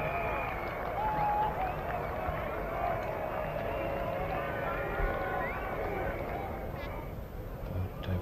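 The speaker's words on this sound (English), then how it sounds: "But a very good bubbling crowd." The crowd at the 1983 Cricket World Cup final, India against the West Indies, applauds and murmurs in a continuous, distant rumble while a commentator talks over it.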